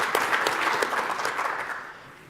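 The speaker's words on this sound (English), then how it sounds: "Yeah, we can clap for that. That's worth a clap." Applause from a conference audience at AWS re:Invent 2017, a steady patter of many hands that fades out toward the end.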